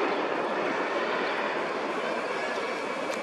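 A Sikorsky H-60 Seahawk helicopter flies overhead near San Diego, heard as a steady, dense engine and rotor roar that stays constant and fairly loud throughout, with no voices.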